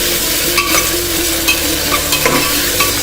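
Chopped tomatoes and green chillies fry in hot oil while being stirred, with a close, steady sizzle and scraping stir sounds throughout and no talking.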